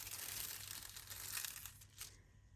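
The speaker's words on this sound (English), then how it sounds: "So we're gonna peel and reveal this." Hot foil is peeled off a crafted piece, with a soft continuous crinkling and light tearing close to the microphone, fading at the end.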